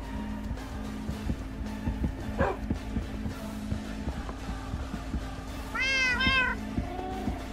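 Cats meow in the Minecraft video game, one clear harmonic meow rising out of steady background game noise near the end, with a fainter earlier cry.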